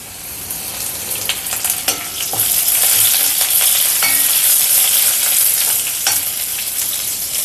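Two sprigs of curry leaves crackling in hot oil for an Onam ulli theeyal, a loud, dense sizzle with sharp pops and spatters, close up and without speech.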